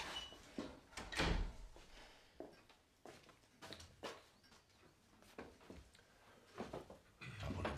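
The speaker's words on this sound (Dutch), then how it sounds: "La polizia che bussa alla porta." Several sharp knocks on a door, as police pound at the entrance in a 2013 film, with irregular thuds spread across the scene and faint background noise between the blows.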